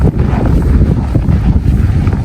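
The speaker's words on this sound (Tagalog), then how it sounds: "Mahangin dito banda." Strong winter wind gusts outdoors beside a garden, buffeting the microphone with a loud, close, continuous rumble and roar and no voices.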